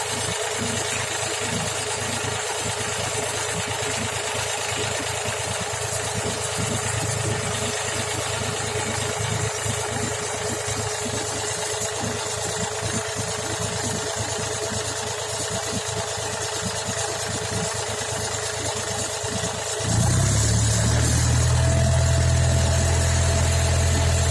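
A mini tractor engine runs steadily at roughly 1000 to 1400 rpm, a continuous close, low droning hum that steps up louder and deeper near the end as the revs rise.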